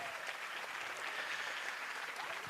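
A church congregation applauding at a Sunday service, steady dense clapping from a large crowd filling the whole stretch, loud and sustained.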